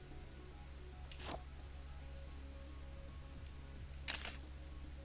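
Two camera shutter clicks a few seconds apart, each a short crisp snap from a camera taking a snapshot, heard alone over a low steady hum.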